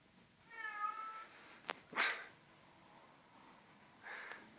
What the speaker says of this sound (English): And a noisy cat.